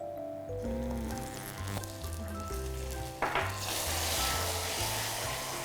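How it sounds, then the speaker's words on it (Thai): A splash of water hits hot caramel for a sea salt caramel lava brownie, setting off a sudden burst of bright, fizzing sizzle that keeps hissing over steady background music. "เราจะใส่น้ำลงไปนิดนึงนะคะ"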